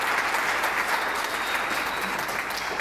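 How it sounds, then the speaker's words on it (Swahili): A church congregation applauding, a dense steady clapping of many hands that stays loud throughout with no talk over it. "Karibu, pigieni Bwana makofi."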